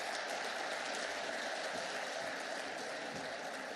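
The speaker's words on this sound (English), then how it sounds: "Applause there was actually for the other table." Applause from a snooker audience at a neighbouring table in the Scottish Open, a steady distant wash of clapping that holds evenly throughout at low level.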